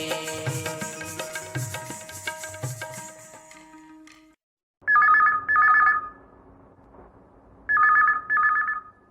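Music plays, then cuts out, followed by an electronic telephone ringing in two separate bursts, each a quick double trill, loud and close.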